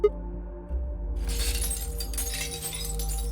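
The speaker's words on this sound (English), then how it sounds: "Sounds like glass shards." Glass shatters into shards, a sudden bright burst followed by scattered tinkling and crunching fragments over a low hum.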